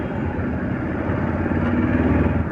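A motorcycle weaving through city traffic and overtaking other vehicles gives off a steady, close engine drone with road rumble, continuous and fairly loud for the whole stretch, with no voices.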